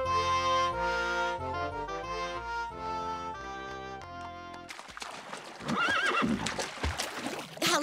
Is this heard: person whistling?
no